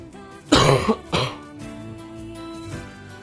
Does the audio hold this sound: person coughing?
yes